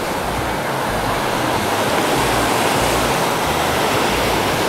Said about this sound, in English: you guys hear the ocean roar? It's really going today.